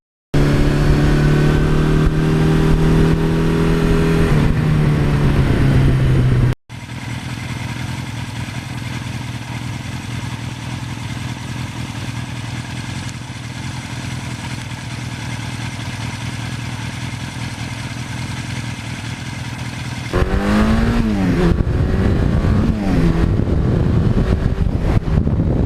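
Engine of a 1982 Suzuki GS1100E motorcycle on the road, a steady loud droning rumble with wind buffeting throughout, rising in pitch at the start and again near the end as the rider accelerates through the gears.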